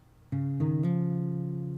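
Fingerpicked acoustic guitar plays a plucked note followed by two quick hammer-ons, the notes ringing together and fading slowly, close and clear without speech.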